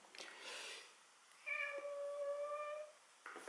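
A pet cat meows indoors, a couple of clear, drawn-out calls close by, the second longer and more insistent, with a brief rustle at the edges and no talking.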